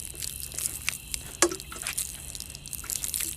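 Water poured to wash graffiti off a surface in a park splashes and drips in scattered irregular bursts, with one sharper splash midway, fairly close and moderately quiet.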